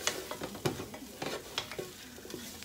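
Cumin being stirred into a pot of Southwestern chicken chili, with a steady run of close scraping and stirring strokes over a soft sizzle, no one speaking.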